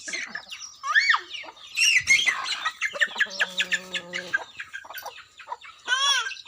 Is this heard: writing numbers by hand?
no